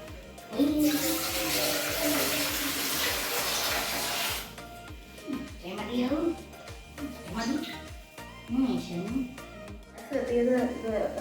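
Water runs steadily from a kitchen tap for a few seconds, then stops, followed by a voice talking and singing close by.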